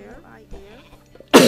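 A person with a cold lets out one sudden, loud cough burst at the very end, after a stretch of quiet, low voice-like murmuring.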